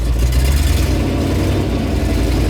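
A 1977 GMC K25 truck engine idles steadily with a low, continuous rumble and a faint irregular knocking running through it, close and fairly loud; the knock occurs only at idle.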